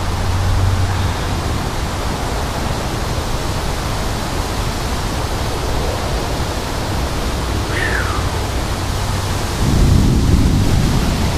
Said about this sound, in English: There goes the thunder, as you can hear in the background.